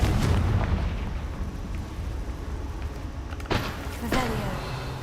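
A Confringo fire spell from Hogwarts Legacy goes off as a video game explosion: a rumbling low boom, then two sharp bursts near the end, with a crackling tail.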